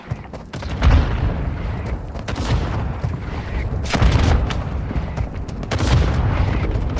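Mortar strike explosions in the Warzone Mobile video game, a string of heavy booms and rumbling blasts that rise and fall in waves, loud and close, with no voices over them.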